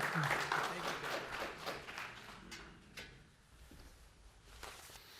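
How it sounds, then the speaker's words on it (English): Applause from an audience at a Buffalo affordable housing announcement for Governor Kathy Hochul, a fairly faint patter of clapping that fades out, with a voice briefly heard over it. "can we have another round of applause for the great Governor Kathy Hochul?"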